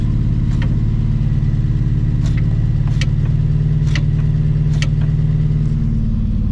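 A 1963 Plymouth Belvedere engine, sitting since 1978 and freshly started, runs steadily at a close, loud idle with a continuous low rumble and a few brief higher clicks or knocks scattered through.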